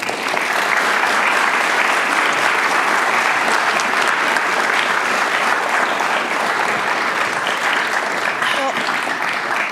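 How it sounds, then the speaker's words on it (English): Audience applause after a physics lecture by Kjeld Beeks on nuclear physics and timekeeping, steady and dense clapping from a large hall crowd sustained throughout, loud and unbroken. "let's give Kjeld a round of applause"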